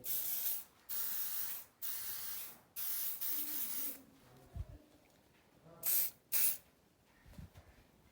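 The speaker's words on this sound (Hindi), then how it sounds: "अब थोड़ी सी हम इसमें रूम स्प्रे लगा देते हैं ताकि वीआईपी खुशबू आने लग जाए।" Room spray hisses out of an aerosol can in repeated bursts, four steady sprays about a second each followed by a pause and two shorter quick puffs, close and fairly loud against a quiet room.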